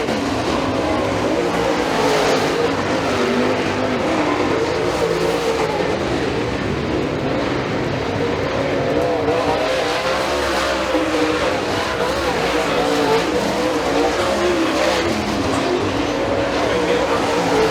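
Super late model race cars roaring around an oval track at Freedom Motorsports Park, a steady loud engine drone with a race commentator talking over it throughout.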